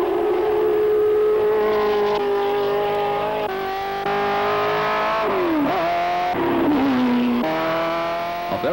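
A Ford GT race car engine roars continuously nearby, its pitch climbing through gears, dropping on shifts and revving again at high speed.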